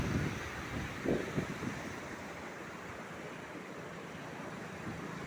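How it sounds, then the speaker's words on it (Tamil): Floodwater of the swollen Noyyal river rushes in a steady, loud roar close to the microphone, with a few brief gusts of wind buffeting at the start and no voices. "பாருங்கள் எவ்வளவு தண்ணி ஆர்ப்பரித்து கிடக்க போகுதுன்னு"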